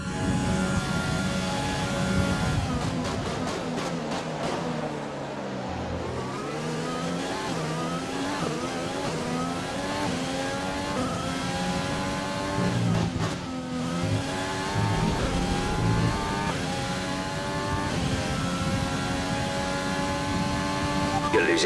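Formula 1 race car engine in the F1 2020 video game, an AlphaTauri with a Renault engine, revving steadily with rising and falling gear-shift sweeps throughout, loud and continuous, with a commentator talking over it.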